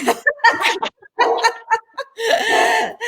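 A dog barks a series of irregular, loud, close barks and yips, with short gaps between the bursts and a longer run of barking at the end.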